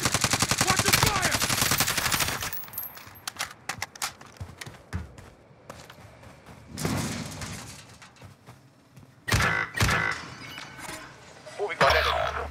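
Gunfire from a squad shooter video game, with dense automatic bursts at the start and then scattered single shots and short volleys. Players talk over the shooting.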